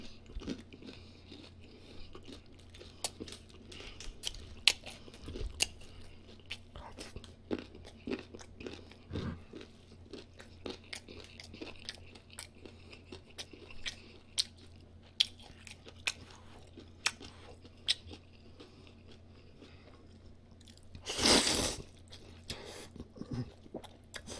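Close crunching bites and chewing of Sinsa fried chicken eaten with New Ansungtangmyun ramen and rice, as sharp, irregular crisp snaps repeating over a quiet background, with one loud burst near the end.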